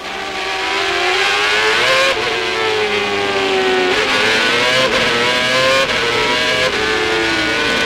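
A CART race car engine at the 2000 Vancouver race revs hard and continuously, pitch rising and dropping as gears shift, loud and near throughout.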